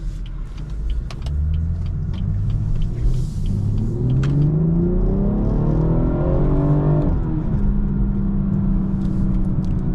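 A 2019 BMW 440i xDrive engine pulls through the gears on the road, a loud, steady interior drone whose pitch climbs under acceleration, drops at a shift and settles again.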